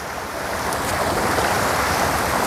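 Strong, steady rush of water pouring into a pomfret fish pond, a dense continuous wash that builds slightly and then holds loud and unbroken, with no voices.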